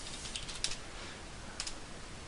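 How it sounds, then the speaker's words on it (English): Someone types a password on a computer keyboard: a few faint, quick keystroke clicks in two short bursts over a steady hiss. "and so I start typing"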